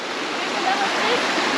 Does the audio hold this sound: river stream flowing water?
yes